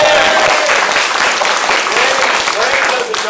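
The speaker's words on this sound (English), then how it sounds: "Give Brandon a big round of applause" Loud, dense applause from a crowd at a martial arts rank testing, a sustained roar of clapping that fills the room from start to finish with voices mingled underneath.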